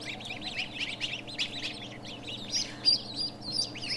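Ducklings quack and peep in a steady busy chorus of small overlapping calls, moderately close, with a few sharper chirps standing out near the end and no talk over them.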